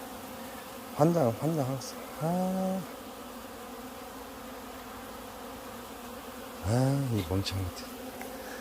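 Bees buzz steadily around a sugar-baited hornet trap, a low continuous drone under a man's short spoken remarks.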